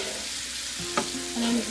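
Garlic shrimp and beans stir-frying in a hot pan, a steady close sizzle with a few scraping stirs of the utensil across the pan.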